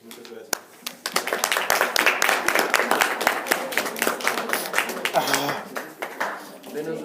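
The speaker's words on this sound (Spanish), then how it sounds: "Les pido un aplauso para ambos equipos." Audience at a drug legalization debate applauding both teams, a dense run of claps with some louder individual slaps, fairly close and steady, with a voice speaking briefly near the end.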